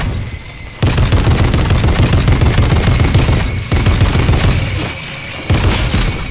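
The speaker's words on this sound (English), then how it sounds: "Oh, they're shooting at me." Loud bursts of rapid gunfire in a fast-paced shooter video game, dense sustained volleys with brief gaps between them, no talk over them.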